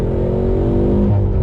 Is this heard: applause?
no